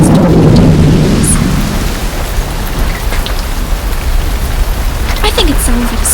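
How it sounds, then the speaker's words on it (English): Thunderstorm sound effect at sea aboard a sailing ship: a heavy rumble of thunder at the start gives way to steady, loud rain on surfaces, with faint muffled voices mixed in near the end. "I think it sounds like a storm might be brewing."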